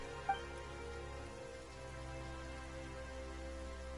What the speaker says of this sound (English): Why is it raining all of a sudden?